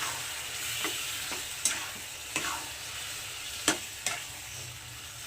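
Chicken stirred with onions in a frying pan, a low steady sizzle broken by a handful of sharp, irregular spatula scrapes and clicks against the pan, close and unaccompanied by talk.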